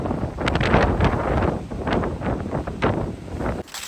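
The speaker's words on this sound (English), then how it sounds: "It's so windy now" Strong wind buffets a phone microphone on an outdoor nature walk, a loud, continuous rumbling roar with gusty surges and rustling, cutting off abruptly near the end.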